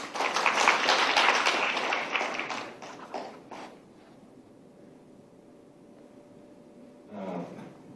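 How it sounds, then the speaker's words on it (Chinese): An audience at a cancer rehabilitation association gathering claps to welcome a speaker, a dense burst of applause for about three seconds that fades to quiet, then a brief rustle near the end. "请大家掌声欢迎"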